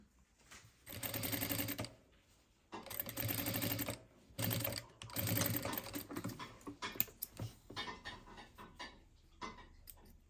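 A sewing machine topstitching a decorative insert on a jeans waistband, heard in several quick bursts of rapid rattling stitches separated by pauses, close and fairly quiet, ending with a run of slower, lighter clicks.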